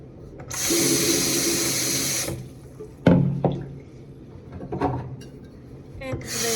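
A kitchen tap runs for about two seconds as acorns get rinsed, then stops, followed by clinks, knocks and splashes of handling at close range.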